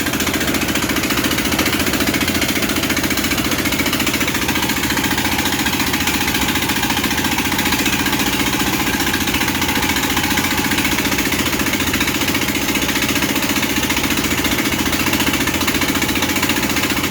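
A Thai rice threshing machine's engine runs steadily and loudly throughout, a continuous mechanical drone with a rough, knocking vibration and no pauses or talk.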